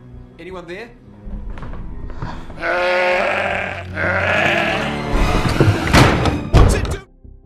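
An aggressive sheep bleats and thuds about in a zombie-film scene, with loud, strained bleats, heavy thumps and slams, and agitated voices mixed in.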